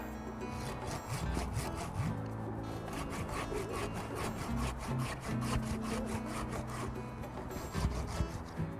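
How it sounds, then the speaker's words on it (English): A pruning saw cuts through a tree branch at the branch bark ridge and collar, making rapid, rhythmic back-and-forth rasping strokes on wood, close and steady, with no speech. "back with our third and final cut at the branch bark ridge and collar"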